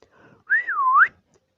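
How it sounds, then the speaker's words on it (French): Single human whistle in a narrated story, a quiet lead-in followed by a clear, loud swooping note that dips and rises again before stopping, heard alone. "Il leva la tête vers les arbres et siffla."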